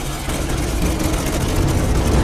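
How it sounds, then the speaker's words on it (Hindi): An engine runs inside an enemy in the Resident Evil Village factory, giving a steady, loud, rumbling low drone that holds without a break for a couple of seconds, with no talking. "ओह शिट भाई इंजन ही इसके पास है"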